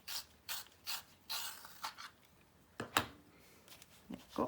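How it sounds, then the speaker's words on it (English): A colouring pencil being turned in a small sharpener gives a run of short scraping, grinding bursts in an uneven rhythm, close and fairly quiet, with no talk. "just going to give this a wee sharpen as well."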